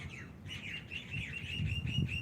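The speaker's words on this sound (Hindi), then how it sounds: "पक्षियों की मधुर आवाज" Several birds chirp outdoors on a cool morning, with quick repeated tweets and short trills at moderate distance over a soft low breeze rumble and no voices.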